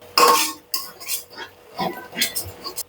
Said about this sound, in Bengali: দিয়ে একটু নেড়ে চেড়ে নিচ্ছি।